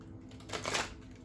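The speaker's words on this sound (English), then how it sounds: "I don't even remember how to shuffle these cards." Tarot cards being shuffled by hand, a brief soft papery riffle that swells in the middle and fades, with no voices.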